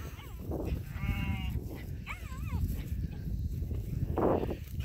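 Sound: sheep (ewes) bleating

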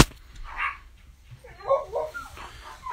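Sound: dogs barking

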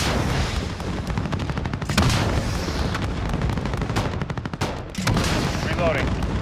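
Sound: missile strikes and gunfire in video game Call of Duty

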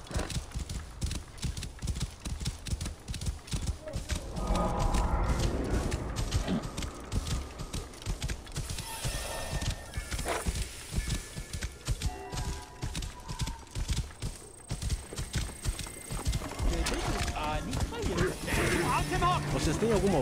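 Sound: horse hooves in video game Assassin's Creed Origins

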